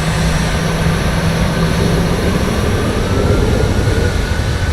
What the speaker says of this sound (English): And then we start spooling up here.